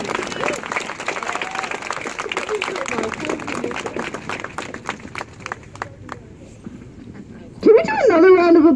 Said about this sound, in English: Of applause for Linda here.